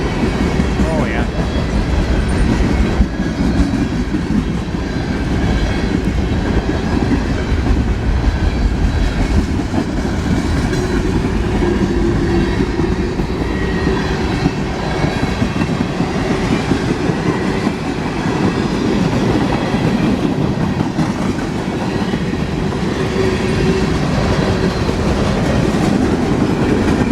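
A long freight train with three DPU locomotives rolls past close by, heavy enough to shake the ground, a loud sustained rumble with rhythmic wheel clatter on the rails that continues without a break.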